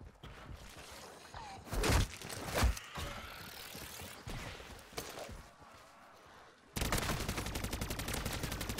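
Sustained SVA 545 rifle fire in a zombies-mode shooter, bursts of shots mixed with game effects and loud impacts, ending in a dense continuous volley of rapid fire.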